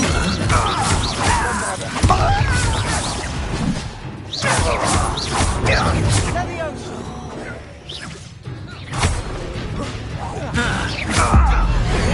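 Spells cast in the game Hogwarts Legacy during a duel: sharp whooshes, smashes and thwacking impacts come in repeated bursts through the clip, loud and close, with character voices over the effects.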